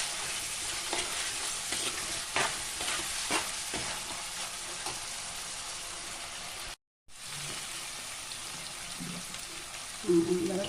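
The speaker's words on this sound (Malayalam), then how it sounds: "ഇനി നമുക്ക് തക്കാളി ഇട്ട് കൊടുത്ത് ചെറുതായിട്ടൊന്ന് വഴറ്റിയെടുക്കാം" Tomatoes with ginger and garlic sautéing in a pan for fish curry, a steady sizzle with scattered scraping stirs, briefly cut out once and resuming with a few clinks near the end.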